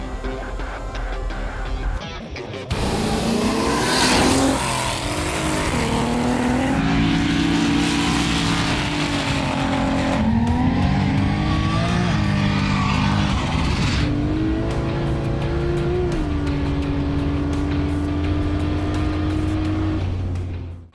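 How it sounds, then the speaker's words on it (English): A 1200hp Barra-powered 1987 Toyota Cresta race car roars loudly down a runway, its engine revving hard and rising through gears in a sustained, close, aggressive drone with no talk. "behind me we've got my 1987 Toyota Cresta."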